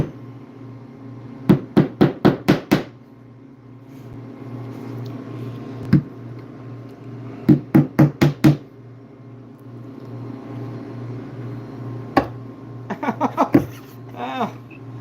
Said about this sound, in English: pulling it snug, and hammering it down.